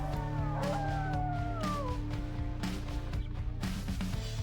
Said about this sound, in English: You're standing with 3 striking wolves, the size of ponies, or donkeys, or similarly mid-sized beasts of burden.